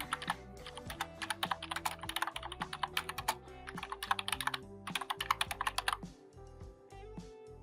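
Rapid clattering keystrokes on a computer keyboard, bursts of quick typing with short pauses while entering program code, close and clear over a low musical background.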